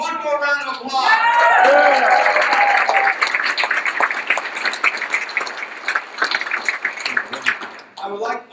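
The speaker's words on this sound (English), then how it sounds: "so let's give them one more round of applause" A crowd at a Democratic gubernatorial primary debate in San Antonio claps for veterans, with cheering and voices at the start, a dense burst of applause that gradually thins into scattered claps.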